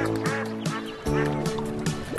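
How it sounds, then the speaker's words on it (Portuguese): Cartoon ducks, a family playing by a lake shore, quack in several nasal calls over a steady musical background, near and fairly loud, with no talk over them. "uma família de patos brincava na margem do lago"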